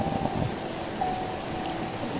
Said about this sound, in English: I like a little rain